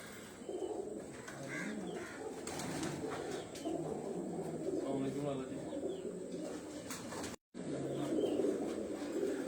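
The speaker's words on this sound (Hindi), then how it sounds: "ये प्योरली उनके अपने घर के ये सारे कबूतर हैं" A loft full of domestic pigeons on a rooftop coos and burbles continuously in a dense, overlapping chorus, with a voice talking over it and a brief dropout near the end.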